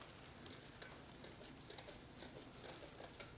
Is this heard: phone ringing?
no